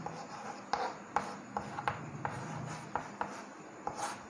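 Writing on a board produces a series of short scratchy strokes at an uneven rhythm, fairly close and moderately loud, with no talking.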